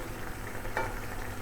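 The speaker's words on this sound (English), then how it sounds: "it's bubbling away nicely. It's releasing a lot of water, as you can see." Mince meat simmers in a pan with its released water, giving a steady, even bubbling and sizzling hiss that stays constant throughout, with no voices.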